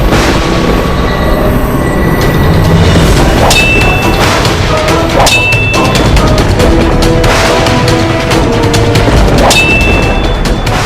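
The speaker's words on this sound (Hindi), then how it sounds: "ये तो दो खड़कों के आपस में टकराने की ध्वनि है।" Two swords clash in a battle in Kashi, with sharp metallic clangs that ring out several times over a loud, dense, roaring din.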